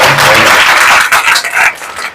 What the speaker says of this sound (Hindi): जोरदार तालियां बजाएं सर